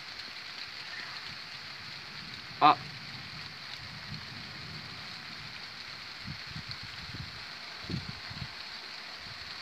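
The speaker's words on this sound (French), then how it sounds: "Oh là là, comment il pleut." Steady heavy thunderstorm rain hisses across the whole clip, a dense wash of falling water with a sharp click near the start and a brief spoken exclamation, in Pernois, France.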